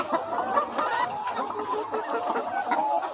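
Chickens on a poultry farm in hot weather, some panting open-beaked, cluck steadily and densely throughout, a close flock chatter with no speech over it.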